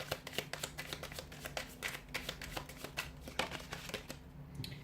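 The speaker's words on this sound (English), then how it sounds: "I'll just give the cards a shuffle" Brisk riffle-shuffling of a tarot deck up close, a quick run of crisp papery flutters and taps in uneven bursts, quiet and alone without talk.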